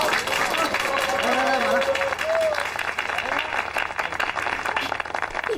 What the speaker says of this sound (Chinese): 把所有的掌声送给马拉。